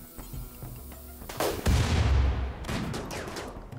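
Rapid bursts of charge rifle fire in the video game RimWorld, loud and close, with overlapping shots and booming impacts for several seconds and no speech.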